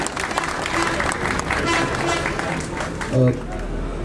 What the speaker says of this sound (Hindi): जोरदार तालियों से स्वागत कीजिए इनका।